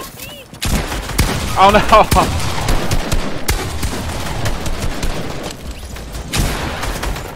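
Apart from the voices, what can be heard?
light machine gun fire in a video game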